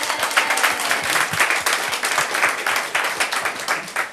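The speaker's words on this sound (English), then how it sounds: "Let's give him another round of applause." Round of applause from a seminar audience honoring a visiting friend from the Philippines, a lively crowd of many hands clapping quickly and steadily at close range for a few seconds with no talk.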